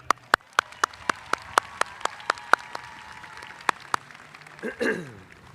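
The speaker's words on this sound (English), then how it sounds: "One more round of applause for these guys." A small number of people clap sharply at a high school graduation, making a sparse, evenly spaced run of about a dozen distinct claps, followed by a brief voice.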